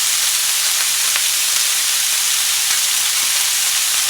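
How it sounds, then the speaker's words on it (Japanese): Beef skirt steak (harami) grills in hot oil, and the loud, continuous sizzle is sprinkled with small pops of spattering fat, close and steady throughout with no voices. "油が飛んでくる。"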